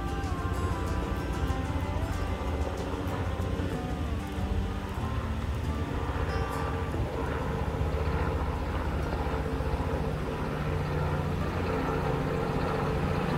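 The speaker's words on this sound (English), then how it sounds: "got a helicopter flying through the reservoir here" A helicopter's low, steady rotor drone carries across open space over a reservoir, moderately distant and continuous without any talking.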